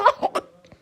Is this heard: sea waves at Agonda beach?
no